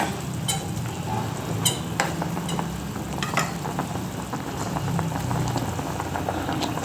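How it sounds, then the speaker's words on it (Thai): A pot of Thai curry with fermented fish sauce bubbling at a rolling boil, with continuous close popping and sizzling and scattered sharper crackles throughout. "ใส่น้ำปลาร้าค่ะ เราให้เดือดเลยค่ะทุกคนเนี่ย"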